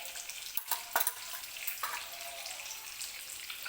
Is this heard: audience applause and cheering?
no